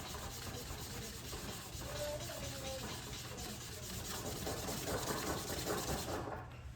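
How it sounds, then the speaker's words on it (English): Steady, close abrasive rubbing hisses continuously as sandpaper is worked back and forth over a wooden whistle dowel, with no clear pauses. "A lot of sanding goes into this."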